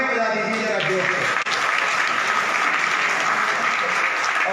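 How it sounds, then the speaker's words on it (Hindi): A crowd at a large traders' conference in Ghaziabad, Uttar Pradesh applauds loudly, a dense sustained roar of clapping that fills the whole stretch, with some voices mixed in. "तो एक बार आप सब अपने लिए तालियां बजा दीजिए जरा जोर से।"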